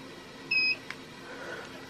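A Fanimation Drone 60-inch DC ceiling fan gives one short, clear electronic double-tone beep as its setting is changed, followed by a faint click in a quiet room.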